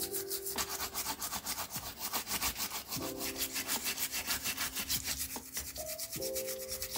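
A small brush scrubs gold-plated parts of an ST Dupont Ligne 1 lighter in quick, steady back-and-forth strokes, a close and continuous rasping with faint ringing tones underneath.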